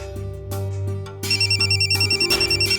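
A phone ringtone plays in a repeating, pulsing pattern, starting softer and then growing louder and more insistent.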